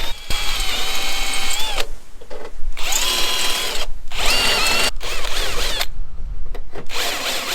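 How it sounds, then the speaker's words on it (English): A power drill bores holes through a Jeep TJ tube fender, whining in several sustained bursts with brief pauses and pitch shifts as the bit bites into the metal, loud and close. "So the next step is to drill our holes from the top down."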